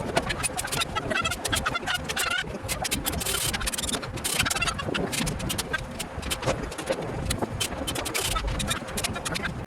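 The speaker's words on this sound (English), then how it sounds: "I'm getting attacked by chickens" Several chickens in a chicken coop cluck and squawk close by, a busy, continuous flurry mixed with scraping and rustling noises.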